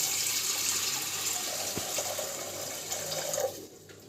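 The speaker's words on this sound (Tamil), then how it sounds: "நம்ம தண்ணி ஊற்றி நல்லா வாஷ் பண்ணி எடுத்துக்கலாம்" Water running steadily from a tap over roasted moong dal being washed, a broad continuous splashing hiss that fades out near the end.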